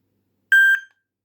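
A single sharp electronic beep from a car alarm pager being paired, high-pitched and steady, lasting under half a second before cutting off into silence.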